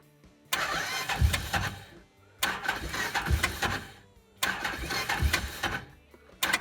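A Can-Am Commander 1000 buggy's engine is cranked three times in a parking lot, each attempt a loud rhythmic churning burst of about one and a half seconds separated by short pauses, without catching.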